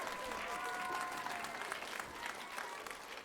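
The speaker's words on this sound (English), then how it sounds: "Why don't you give her a big round of applause?" A concert hall audience at a school band festival claps for a young glockenspiel player, a sustained, fairly loud round of applause with some crowd noise and faint tones beneath it.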